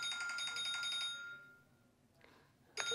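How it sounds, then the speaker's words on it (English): Electronic alarm beeping in a garage, a bright repeating pulsed tone that fades out after about a second and a half, a short faint burst, then the alarm starting again near the end. "I need to reset that alarm."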